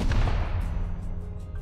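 Gunfire in the Rust survival game, a loud burst of shots with a booming low-end tail that rings out and fades over a second and a half, with no talking.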